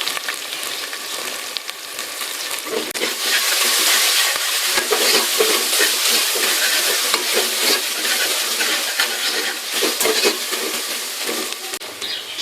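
Onions fry in a pan with ginger-garlic paste and green chillies, giving a loud, continuous hiss of sizzling oil with faint stirring scrapes, close up and without speech.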